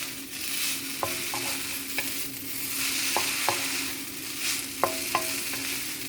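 Noodles with soy sauce and shrimp stir-fry in a hot pan, a continuous moderate sizzle broken by sharp clicks and taps of a utensil turning the food.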